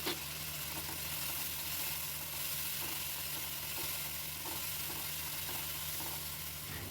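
Tomato and poppy seed paste fries with asafoetida in a pan while preparing kankrol (spiny gourd) stuffing, giving a steady, even sizzle that holds through the clip with soft faint scrapes and no talking.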